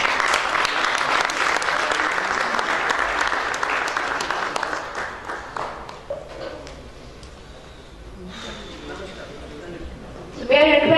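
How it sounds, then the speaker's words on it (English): A conference room full of people applauding speakers after a panel session at Energy Storage India 2014, dense and steady at first, then thinning into scattered claps and a brief final burst. "a round of applause for all our speakers for this last session"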